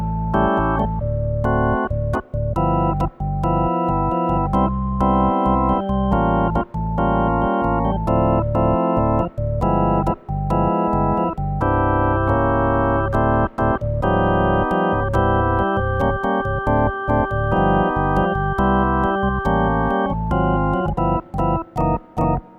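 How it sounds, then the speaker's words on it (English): A Hammond organ recorded straight through a DI box into a Neve 1073 preamp plays dense sustained chords with a bright, raw, unfiltered tone, steady and loud, with short gaps between some chords and no talking. "We're going literally out of the Hammond into a DI box and into the"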